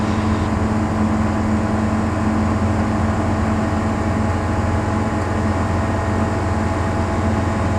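Bristell light aircraft engine droning steadily in flight at about 5,240 RPM, a loud, constant hum with strong tonal buzz heard from inside the cabin without interruption.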